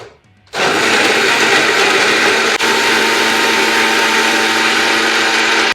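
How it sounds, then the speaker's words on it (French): A blender mixes sweet potato covered with water, running loud and steady after a short quiet start, its motor roar holding without a break to the end. "Ensuite, on va mixer."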